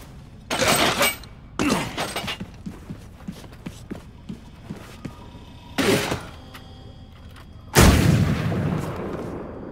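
Gunfire in the video game Wolfenstein II: The New Colossus, a few loud sharp shots with ringing tails spaced across the stretch, the final blast heaviest, with softer clanks and thuds between them and no talk.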